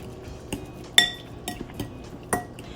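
Pizza sauce is stirred with a utensil for a ramen dish, a handful of sharp separate clinks and taps against the container over a quiet background.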